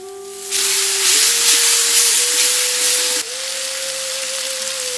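Small onions and chopped tomatoes frying in a hot pan, a loud steady sizzling hiss that swells and then drops to a slightly quieter, continuous crackle, with no voices.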